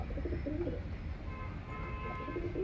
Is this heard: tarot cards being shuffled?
no